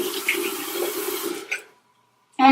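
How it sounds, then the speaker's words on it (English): Warm water runs from a bathroom tap for about a second and a half before cutting off, steady and close, followed by a brief silence and a short splash or clatter at the very end. "I am going to wet my face with some warm water"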